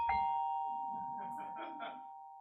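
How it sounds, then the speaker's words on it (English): A single bright electronic doorbell chime sample rings out and sustains, with a faint lower tone fluttering beneath it as it fades. "You can have a doorbell situation."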